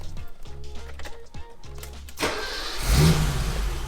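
A BMW E28 535is engine idles with a steady low throb and rhythmic pulses, then revs up loudly and keeps running, close up with no talking.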